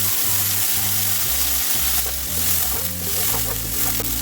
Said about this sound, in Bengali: এই পেঁয়াজটা আমি একটু ভুনে নিব